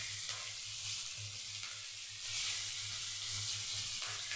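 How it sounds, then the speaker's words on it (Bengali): Two large onions frying in a pan with a little salt, a steady close sizzle and hiss that swells partway through, with light stirring scrapes underneath. "এবার আমি পেঁয়াজটা দিয়ে দেবো।"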